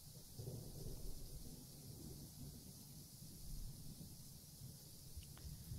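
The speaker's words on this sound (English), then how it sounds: "Strong gusts of wind will occasionally burst in from the open balcony door, bringing in drizzles of cold rain into the room" Strong wind gusts sweep through an open balcony door in The Letter game, carrying cold drizzle into a room as a low, rumbling, steady roar with surging swells and no voices.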